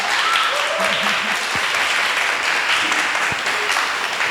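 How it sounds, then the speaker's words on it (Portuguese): An audience applauds speaker Leandro Santana after a talk on Black identity, a steady, loud wash of many hands clapping that carries on evenly, with faint voices and a few brief tones threaded through it. "Palmas, por favor, para Leandro Santana."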